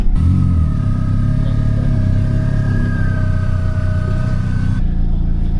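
A Suzuki Ignis rally car's engine runs at a steady high drone with a faint whine over it, loud and close, for several seconds before cutting off abruptly; no talking.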